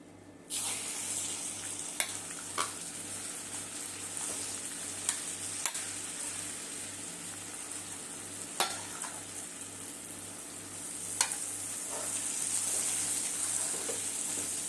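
Grated raw mango mixture for mango thokku stirred in a pan, a steady scraping and rustling with repeated faint clicks of the spoon against the pan, plus a low rhythmic hum underneath.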